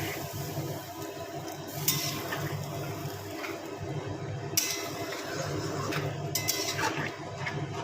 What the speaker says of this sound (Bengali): এবার এতে জল যতটা দরকার পরিমাণ মতন জল দিয়ে দিতে হবে।